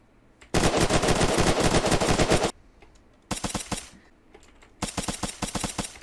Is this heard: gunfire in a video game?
yes